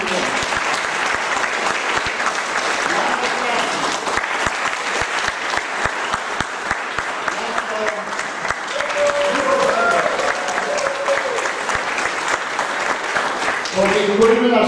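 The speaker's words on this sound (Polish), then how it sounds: "Państwa proszę o kolejne brawa." An audience at a ceremony in Wrocław claps continuously, a loud sustained roll of applause with a voice speaking faintly over it partway through.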